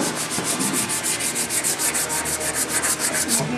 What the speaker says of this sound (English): want to do some roll sanding?